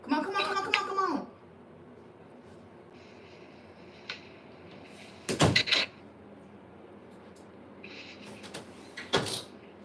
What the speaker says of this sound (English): I need to close the door right quick.